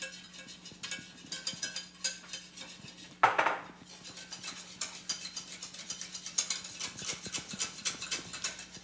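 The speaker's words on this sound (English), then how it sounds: "Now I'm going to take my egg yolks and I'm going to drop those in one at a time, whisking that in really" A wire whisk beats egg yolks into orange curd in a metal bowl with rapid, steady metallic ticking and one brief louder scrape partway through.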